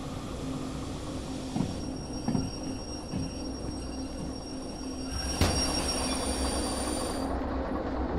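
A train in the Derail Valley game slows with rumbling wheels, a few clanks of railcars, and a sharp metallic squeal near the end, heard alone with no talk.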